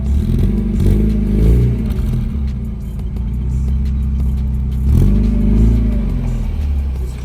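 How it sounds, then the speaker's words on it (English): Pickup truck driving, a loud close low rumble of engine and road noise with rattles, rising briefly twice as it accelerates. "Let's go get in the truck and go to Bob's house"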